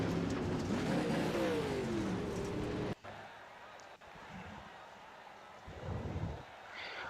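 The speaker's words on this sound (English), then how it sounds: "let the engines sound, turn the music and the microphones down" Dirt track race cars revving their engines during warm-up at a grassroots Smoky Mountain dirt oval, a loud roar for the first three seconds followed by quieter, more distant engine drone and faint crowd or announcer noise.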